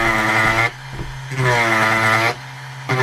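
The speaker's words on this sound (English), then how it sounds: "Or a Dremel tool, let's try that." A Dremel rotary tool cuts into a wooden boomerang in two loud, buzzing bursts separated by a short pause, each whining steadily at close range as the bit grinds the wood.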